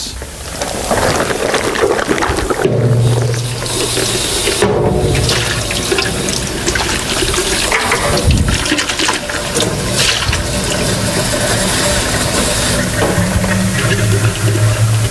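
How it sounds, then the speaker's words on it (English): Running water pours steadily from a tap to rinse out a gelato mix container in a café kitchen, a loud continuous splashing rush that lasts throughout with slight shifts as the container moves under the stream. "And we can just wash this out quickly."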